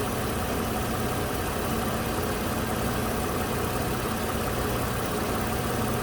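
A 2008 Toyota RAV4 engine with a misfire fault idling, heard as a steady, loud, unbroken mid-to-low mechanical drone that stays close and constant throughout.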